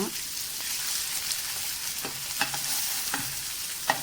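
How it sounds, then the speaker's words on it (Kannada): Pomfret fish fries with curry leaves in a hot pan, a constant bright sizzle broken by a few sharp utensil taps and stirs. "ಈಗ ಕರ್ಬೇವು ಸೊಪ್ಪು ಹಾಕ್ಕೊಂಡು ಫ್ರೈ ಮಾಡ್ಕೊಳ್ತಾ ಇದ್ದೀನಿ"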